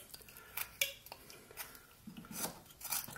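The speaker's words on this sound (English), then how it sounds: "We'll just put a little stop cut and start cutting up to that stop cut." A knife whittles a small wooden mushroom, making short scraping and slicing strokes up to a stop cut, several quick close rasps in an irregular rhythm with quiet pauses between them.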